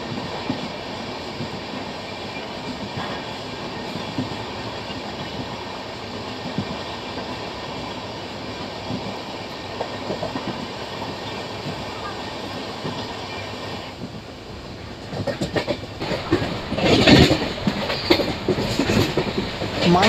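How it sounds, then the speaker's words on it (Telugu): Janmabhoomi Superfast Express 12805 running steadily at about 110 km/h, a constant on-board rail rumble with clickety-clack of wheels over joints, growing louder and more clattering toward the end, with some voices in the background. "మన ట్రైన్ అయితేనండి ఫ్లాట్ 110 kmph అయితే అసలు తగ్గట్లేదండి"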